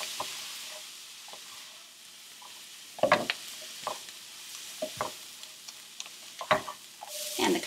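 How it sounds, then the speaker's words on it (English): Brussels sprouts caramelizing in a hot pan are stirred, a steady soft sizzle broken by several sharp scraping clacks of the utensil against the pan, growing busier toward the end. "We're going to continue stirring it so it doesn't burn"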